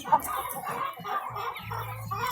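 Muscovy ducks and ducklings make soft, repeated peeping and low clucking calls close by, a busy chorus of small overlapping vocalizations with a brief louder note at the start.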